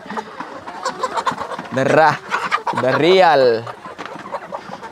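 A flock of hungry farm chickens clucks close by, with loud, drawn-out squawking calls rising over a busy background of softer clucks and people talking.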